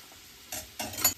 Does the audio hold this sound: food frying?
yes